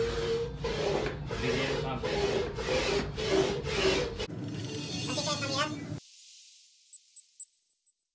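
Hand pump inflating an inflatable soccer training mannequin, with rhythmic rasping, whooshing pump strokes close by for several seconds, then a pause and a brief faint clicking as a voice speaks.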